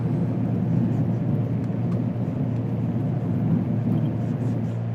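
Piper PA-28 Arrow in a flight simulator taking off, its steady engine drone and rumble holding level and close throughout with no talk over it.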